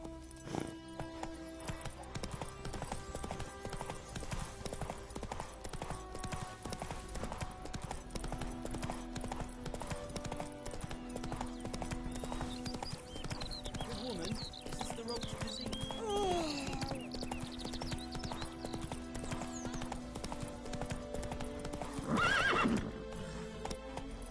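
Horse hooves in The Witcher 3 video game, a steady galloping clip-clop running throughout with a neigh near the end, over a game music bed.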